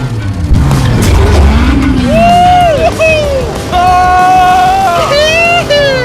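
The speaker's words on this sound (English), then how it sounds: "driving overpriced, loud cars On a private racetrack" A loud, expensive car is driven hard on a private racetrack. A deep engine roar rises and falls through gear changes and revving and carries on continuously close by, with people's voices mixed in.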